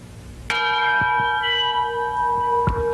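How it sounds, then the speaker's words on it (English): A single loud locomotive engine bell strike rings out and sustains with a bright, shimmering tone, decaying slowly with faint clanks in the background. "the bell off of the engine from outside. I'll give you a little taste of what it sounds like"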